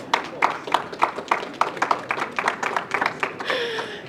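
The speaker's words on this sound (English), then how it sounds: "Please, can you just give them a round of applause?" A small audience claps at a conference session on decarbonizing Africa's blue economy, with sharp, evenly spaced claps from a few hands close by, then a brief murmur at the end.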